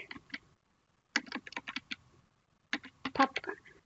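Typing a folder name on a computer keyboard, three short bursts of crisp, close key clicks separated by silent pauses.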